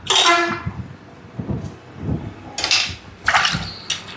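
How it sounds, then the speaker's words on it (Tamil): A passing Manikandan bus on a village road sounds its horn in a long opening blast, then a few shorter honks follow as it moves by, with engine rumble in between. "மணிகண்ட பஸ்ஸு போகுது."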